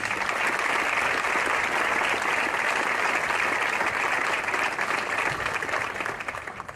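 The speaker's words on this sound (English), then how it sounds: "let's give these awardees another big round of applause" A large audience at a basic camp graduation ceremony gives the awardees a big, dense round of applause that stays steady and loud throughout, tapering slightly near the end.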